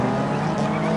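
Group B rally cars launch at the start of a video game race, a brief burst of loud, dense engine roar and tire noise from several cars at once, close and continuous.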